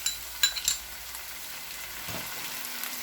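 Ginger garlic paste sizzles and fries with onions in a pan, a soft steady crackle broken by a few light spoon scrapes and clinks against the metal.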